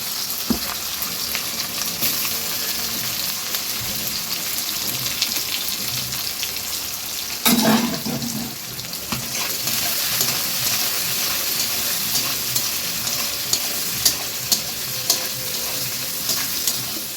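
Green chillies and onions dropped into very hot oil for chicken kosha, crackling in a loud, continuous sizzle, with a brief clatter of utensils midway and a few sharp pops near the end.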